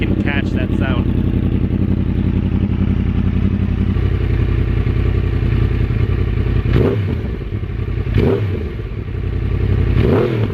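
A Yamaha R1 motorcycle with dual Yoshimura carbon fiber slip-on exhausts idles with a loud, steady, rumbling burble, a few sharp clatters early and swelling blips of throttle later on.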